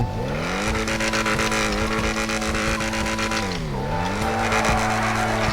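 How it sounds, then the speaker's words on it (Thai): Honda Civic Type R in Grand Theft Auto V, its exhaust droning loudly and constantly as the engine pitch rises, dips and climbs again, with faint tire squeal, close and alone. "ฟังเสียงท่อซะหน่อย"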